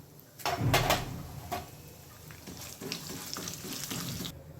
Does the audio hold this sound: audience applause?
no